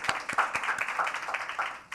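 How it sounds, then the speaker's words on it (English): Scattered applause from a small audience at an interview event held at the United Nations, a handful of separate claps in an uneven rhythm, fairly close and moderately loud, with no talk over it. "I want to give you a round of applause for that"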